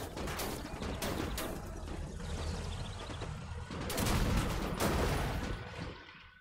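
Tank main gun firing in Gates of Hell, a 38t-line tank battle on hard difficulty: sharp cannon blasts cracking out at intervals amid ongoing battlefield rumble and scattered gunfire, with a loud report near the middle.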